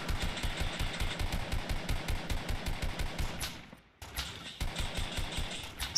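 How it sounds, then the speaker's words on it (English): Rapid automatic gunfire in Fortnite on Nintendo Switch, a steady rattling stream of shots that breaks off briefly near the end and then resumes, loud and close with no talking. "I don't get them nuts shooting at each other."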